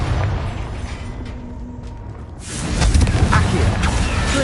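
The Confringo fire spell in Hogwarts Legacy bursts with a loud, rumbling explosive blast about halfway through, following quieter game ambience and mechanical clatter.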